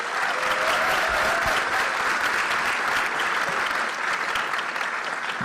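Loud, sustained audience applause fills a university Charter Day celebration, a dense steady wash of clapping from a large crowd lasting throughout without interruption.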